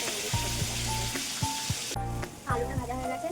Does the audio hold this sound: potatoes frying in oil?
yes